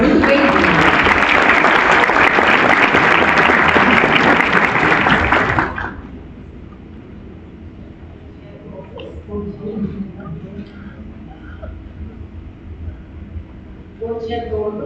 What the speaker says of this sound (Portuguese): Uma salva de palmas, seja muito bem-vinda